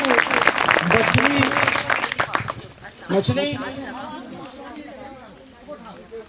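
A classroom of children clapping hands together in a dense, loud burst for several seconds, then fading as children's voices take over and chatter continues underneath.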